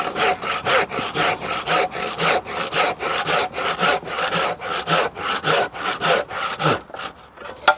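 A Hilti Neuron battery circular saw with a thin-kerf blade cuts through wood, a close, loud rasping whir that pulses in a rapid, even rhythm of strokes before trailing off at the end.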